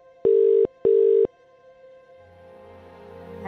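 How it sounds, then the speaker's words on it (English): A telephone rings after a number is dialled, giving a double ringback: two identical steady tones in quick succession, then a quiet line. "Let's dial them now."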